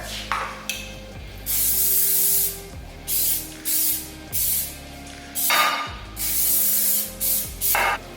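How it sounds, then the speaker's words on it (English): Butter-flavored cooking spray hisses from a can into a baking pan for an apple crisp, a series of about seven or eight short, close bursts with brief pauses between them. "And then she said just to spray the pan."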